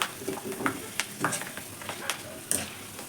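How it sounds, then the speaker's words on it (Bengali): Potato chips frying in hot oil in a wok while being stirred, a soft continuous sizzle broken by scraping clinks of the spatula every half second or so. "আর এই যে আমি কড়াইতে তেলের উপরে এটা ভেজে নিব এখন।"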